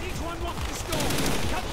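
Bursts of gunfire aimed at a sniper in the Call of Duty: Black Ops campaign, with dense, overlapping shots that blend into a continuous battle din under a player's voice.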